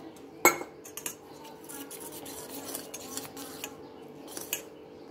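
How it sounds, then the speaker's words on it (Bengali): A spoon clinks and scrapes around a bowl while thick batter for an egg omelette snack is mixed with water, with one sharp knock followed by irregular rubbing and clinking, close and moderately loud. "এবার অল্প অল্প করে জল দিয়ে এটাকে আমি ভালোভাবে মিশিয়ে নেব।"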